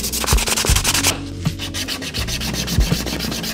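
Steady, rhythmic rubbing of sandpaper against hard 3D-printed plastic airsoft grenade parts, close and continuous, with repeated back-and-forth strokes and a brief pause partway through.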